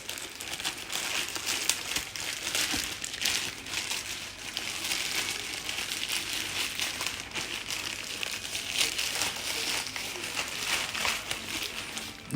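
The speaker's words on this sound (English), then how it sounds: "So let's finish unwrapping it." Crinkly plastic packaging around an order of silicone car intake filters rustles and crackles as it is unwrapped up close, a busy, irregular crumpling that runs for about twelve seconds.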